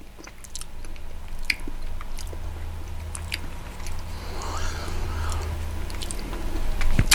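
Chewing on a mouthful of Chinese chicken satay with shrimp paste, close and steady with moist biting and squishing over a low background hum, no talking.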